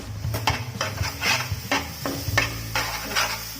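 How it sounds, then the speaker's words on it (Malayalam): Papaya thoran is stirred in a pan after steaming covered, with repeated spoon scrapes and knocks over a soft sizzle, close and with no talk. "നമുക്കിതൊന്ന് ഇളക്കി കൊടുക്കാം."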